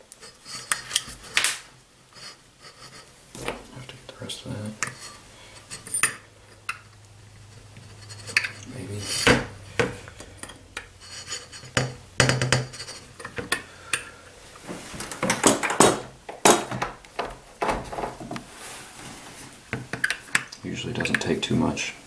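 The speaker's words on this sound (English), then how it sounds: "punch out your trigger group pins" A small punch driving trigger group pins out of a SPAS-12 receiver gives irregular metallic taps, scrapes and clicks that come in close bursts, with quieter handling noise between them.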